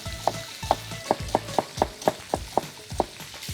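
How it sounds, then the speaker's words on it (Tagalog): Duck browning in a pan with ginger, lemongrass and onion: a steady sizzle cut by about ten evenly spaced scraping strokes of a spatula, close and fairly loud, with no voices. "At habang binabrown natin yung ating duck"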